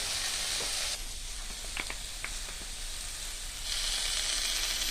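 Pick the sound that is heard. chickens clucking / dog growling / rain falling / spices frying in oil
spices frying in oil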